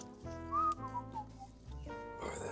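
A person whistles a melodic tune while slicing ham in a grocery shop at Christmas, the whistling clear and close with a brief pause and faint background noise.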